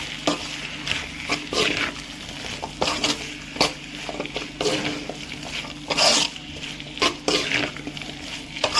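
Turmeric powder being stirred into oily brinjal thokku in a pan: close, steady scraping and clattering strokes with sizzling spatter, some louder bursts, and no talking.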